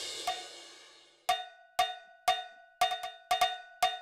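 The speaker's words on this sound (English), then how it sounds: "Try hitting the pads with the sticks to play some drum sounds." Drum pads struck with sticks in the Virtuoso VR game, sharp bright metallic hits like a cowbell, one early strike then a pause and six evenly spaced hits.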